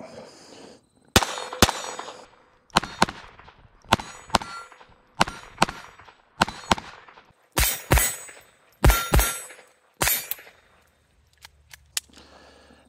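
A Walther P22 pistol fires a full magazine of Armscor ammunition, about eleven sharp, close shots spaced roughly a second apart with brief pauses, each followed by a short metallic ring.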